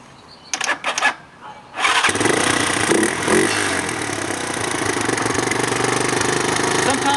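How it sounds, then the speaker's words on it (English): A 2005 United Motors UM 200 dual sport motorcycle with a new gel battery and new starter cranks in a few short bursts, then catches and settles into a loud, close, steady idle with no speech. "Crank it up, it cranks right up."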